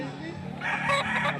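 A rooster crows at a poultry market in Padre Garcia, Batangas, a single call rising over the steady murmur of people talking and traders haggling nearby.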